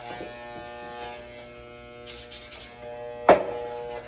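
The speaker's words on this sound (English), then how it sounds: "The clippers tend to get overheated as you're cutting." Electric hair clippers run steadily while cutting and blending the sides of a haircut, a continuous buzzing hum with a few short bursts of snipping noise partway through and a sharp knock near the end.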